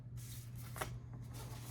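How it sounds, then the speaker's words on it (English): A deck of tarot cards being shuffled, brief soft riffling bursts close to the microphone over a low steady hum, faint and with no speech. "I'm just going to move the cards out of the way and I'll shuffle the deck as well."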